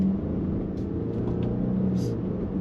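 Jaguar XF (X260) with an 8-speed automatic pulling away in first gear in manual mode, a steady low engine rumble from inside the car, moderate and even.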